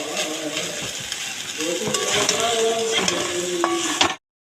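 A utensil stirs pumpkin greens with prawns and potato in a hot pan, giving a steady close sizzle with scraping strokes that stops abruptly at the end.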